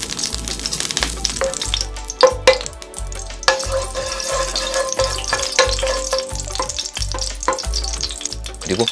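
Dried chili, cumin seed, fenugreek seed, cardamom and bay leaf being stir-fried in ghee for dal makhani, a loud continuous sizzle with repeated scraping and stirring knocks.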